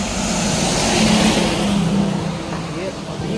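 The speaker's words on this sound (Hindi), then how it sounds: "ये अभी एक ट्रक गया है" On a wet road, a truck rolls past close and loud, a broad roar with hissing spray that swells and then fades, with a person speaking over it.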